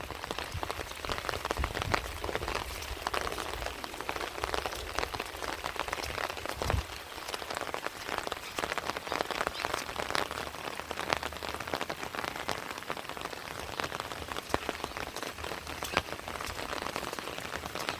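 Steady rain falls on surfaces around a wooden rural house on a wet day, a dense even patter with scattered louder drops, continuous and fairly faint, no voices.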